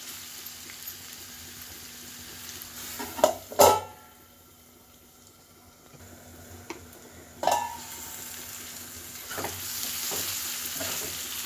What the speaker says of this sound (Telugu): ఇలా మధ్య మధ్యలో కలుపుకుంటూ వేయించుకోవాలి, లేకపోతే మాడిపోతాయండి.